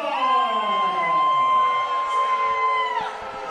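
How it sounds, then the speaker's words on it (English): A wrestling crowd at a PPW show boos and shouts in a sustained, loud wall of voices with a shrill whistle-like tone running through it. "This crowd does not like that one bit."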